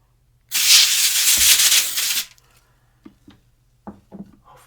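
A continuous hiss of cooking oil spray on aluminum foil lasts under two seconds, loud and close. A few faint soft handling taps follow.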